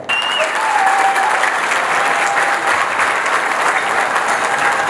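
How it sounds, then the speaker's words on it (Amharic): Loud, sustained applause from an audience at a good-deeds award ceremony, dense clapping filling the whole stretch evenly without letting up. "ከፍተኛ የሆነ ጭብጨባ።"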